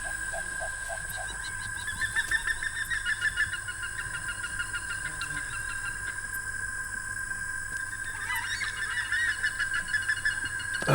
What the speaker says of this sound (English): Birds are making a real racket.